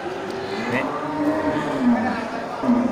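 At a busy cattle market, Bali cattle low in a few drawn-out moos amid constant crowd murmur and nearby voices.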